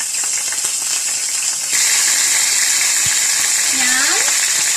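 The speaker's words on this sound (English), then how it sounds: "Okay, now we are going to stir fry it." Curry leaves with a cinnamon and cardamom mixture stir-frying for crab masala, a loud, steady hissing sizzle that swells partway through, with a brief clack and a short tonal whine near the end.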